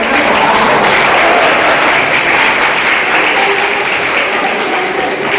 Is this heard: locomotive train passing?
no